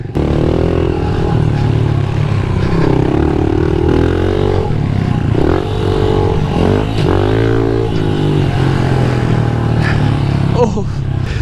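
A pit bike buzzes steadily around a mini arenacross track, its engine note rising and falling through corners with no letup, while a rider's voice talks over it.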